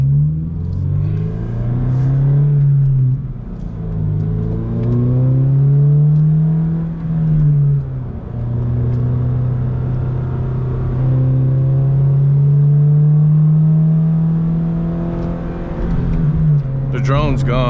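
A Toyota GR86 fitted with an MBRP exhaust, exhaust note unplugged, idles and revs with a loud, deep droning engine tone that rises and falls in several swells, with a brief blip near the end.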